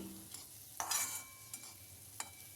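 A spoon stirs green beans coated with turmeric and red chili powder in a pan. Brief scraping strokes stand out over a soft background sizzle, with no voices.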